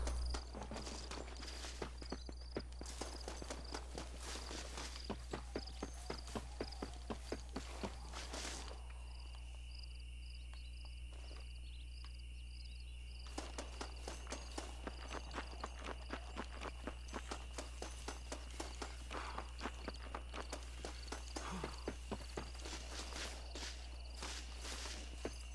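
Horse hooves in Red Dead Redemption plod at a steady walking rhythm of soft clopping steps over a bed of chirping crickets and insects, pausing briefly midway before resuming.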